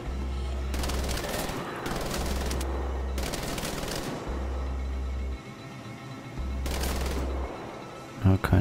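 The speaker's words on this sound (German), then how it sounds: "Oder wir schießen kurz von hier." Sustained automatic gunfire in the video game Wolfenstein: The Old Blood rattles in long bursts with short pauses, loud and close, over a low pulsing game soundtrack.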